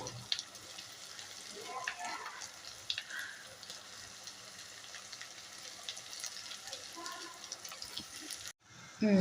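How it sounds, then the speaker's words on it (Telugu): Prawns being stirred in hot oil for gongura prawn curry, a steady low sizzle with soft scraping stirs running throughout, fairly quiet and close, with a brief dip near the end. "రొయ్యకి బాగా పట్టేదాకా నూనెలో బాగా కలుపుకోండి"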